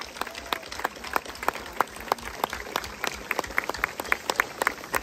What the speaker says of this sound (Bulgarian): ще ви помоля и за 9 пъти по-бурни аплодисменти